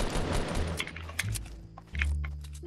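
Grenade launcher fire during a two-versus-one Fortnite battle, heard as a few dull thumps and bursts over a busy, noisy game mix, with one heavier blast near the end.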